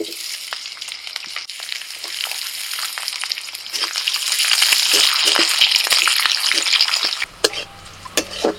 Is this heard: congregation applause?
no